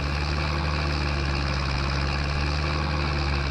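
Idling little tractor in Farming Simulator 22, on a European countryside farm, giving a constant low throbbing rumble up close, the pulse steady and uninterrupted throughout.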